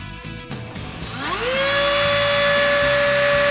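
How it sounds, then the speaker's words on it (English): A Dremel rotary tool spins up to a steady high-pitched whine while drilling and cutting a metal bracket for a 2017 Toyota Corolla dash mount, loud and close after a few light knocks at the start. "It will need to be drilled and cut so the shape of the bracket matches the Toyota bolt from the dash."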